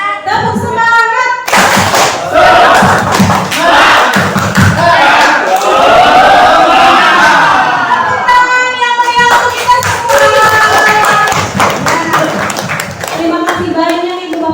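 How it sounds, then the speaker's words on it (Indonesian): A room of parents and teachers at an Indonesian school session performs a tepuk semangat, loud rhythmic group clapping in quick patterned bursts mixed with shouted chant and crowd voices, close and dense throughout. "terakhir kita tepuk semangat dulu sebelum ditutup ya Ibu Bapak"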